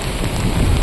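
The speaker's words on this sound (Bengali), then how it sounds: "এত বৃষ্টি হচ্ছে আমার ফোনটাই ভিজে যাচ্ছে" Heavy rain pouring down during a days-long downpour by the Ajay river, a dense, loud, steady hiss drumming close to the phone.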